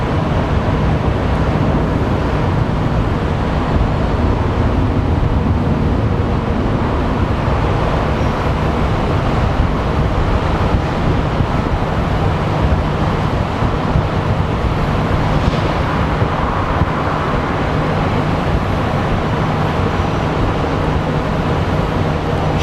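A Boeing 777 airliner takes off at Sky Harbor International Airport, a loud steady broadband jet roar that holds at full strength throughout.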